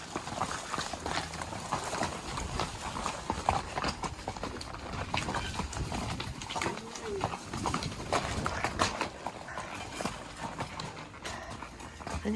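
Horses' hooves clip-clop along a rocky desert trail in Arizona on the way to a waterfall, a steady, uneven patter of several animals walking close by, with faint background sounds.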